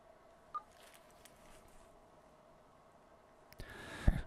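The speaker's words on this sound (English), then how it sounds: "Getting Sam on the phone right now." Telephone dialing tones heard while placing a call to a radio show guest, a short beep early, then a faint steady tone before a louder burst of dialing and line noise near the end.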